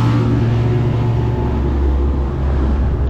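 A fishing motorboat with a 115 hp engine roars past at speed. Its loud, continuous engine drone stays steady throughout, mixed with rushing water and wind.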